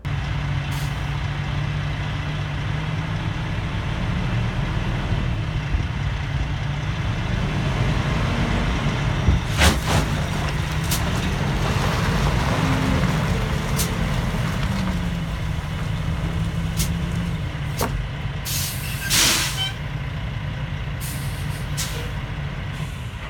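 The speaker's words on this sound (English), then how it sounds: "I was able to pull away from the dock quite a ways, but then I started spinning my tires." A semi truck pulls away from a snowy, icy loading dock on a steep pitch, its engine droning low and steady for a long stretch with occasional sharp air-brake hisses and clanks, close and continuous, no voices.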